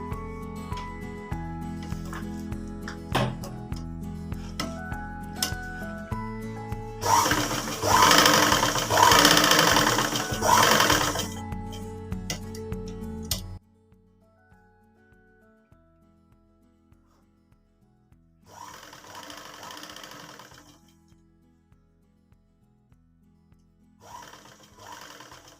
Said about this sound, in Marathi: आता वरती हे जे आपण मार्किंग केलं होतं इथं आपल्याला एक टीप देऊन घ्यायची आहे अशी